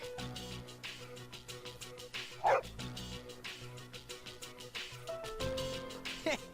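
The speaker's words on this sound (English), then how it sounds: "you're one loyal dog." A dog in the Persona 3 FES video game barks and yips in a couple of short bursts over game music, the main bark loud and close midway through.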